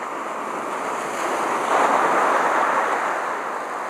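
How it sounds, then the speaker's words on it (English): White water surf breaking on rocks along a rocky shore, a continuous loud rushing roar that swells in the middle and eases slightly toward the end, with wind buffeting the microphone and no voices. "A lot of white water, a lot of white water."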